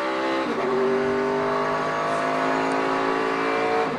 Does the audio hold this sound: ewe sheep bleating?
no